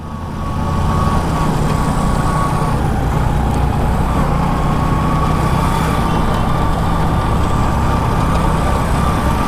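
A motorcycle engine runs steadily and loudly close by beside a railway track in a flooded area, a continuous droning hum with no change in pace and no talk.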